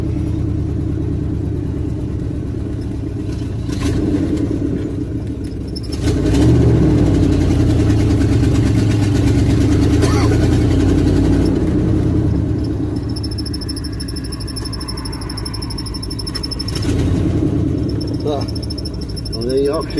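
A truck engine that may have flooded after sitting runs loudly with a steady rumble, swelling into revs a few times, voices talking over it.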